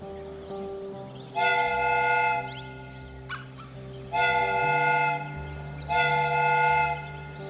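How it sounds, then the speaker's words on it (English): Steam whistle of a replica train in the Sherlock Holmes game sounds three times, each a loud sustained multi-tone blast of about a second, separated by short gaps over a steady low rumble. "The steam whistle is ready to be used."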